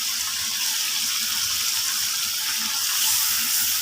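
Masala fries in a karahi for chicken karahi with yogurt added, giving a loud, continuous close hiss and sizzle that swells briefly near the end, with no talking.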